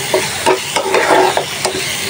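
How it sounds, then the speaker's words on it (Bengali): Spice paste and two tomatoes frying and being stirred in a pan for a fish curry, with a steady sizzle broken by several spoon scrapes and stirs, close and fairly loud, no talking. "মশলাটা ভালোভাবে কষায় নিয়েছি। এখন সাথে করে টমেটো, 2টা টমেটো দিয়ে দিয়েছিলাম।"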